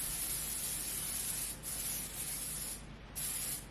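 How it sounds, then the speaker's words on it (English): Baking spray hisses steadily onto an 8x8 baking pan in a home kitchen, a close, continuous spray broken by a few short pauses as the nozzle is released and pressed again. "baking spray."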